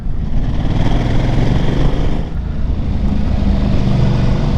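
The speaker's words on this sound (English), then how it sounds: "I'm on the Ducati 950 Multistrada," A Ducati 950 Multistrada motorcycle climbs a twisty mountain road, its engine droning steadily up close with a continuous low rumble and wind noise, briefly easing mid-way before pulling on again.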